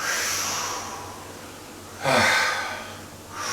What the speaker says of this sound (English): She's breathing out all of her tension and stress.